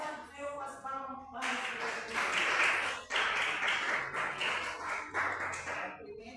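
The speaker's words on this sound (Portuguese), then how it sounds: "Receba a serva do Senhor com as palmas" A church congregation claps in unison to welcome a pastor's wife. A brief bit of voice comes first, then a loud, steady rhythmic clapping runs for several seconds with a short break partway through.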